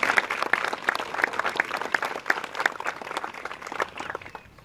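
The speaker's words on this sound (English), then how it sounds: "let's recognize that by giving her a big round of applause" Audience applause at a park dedication ceremony, moderate clapping spread across the crowd with a faint rhythmic tone pulsing through it, steady and fairly soft overall.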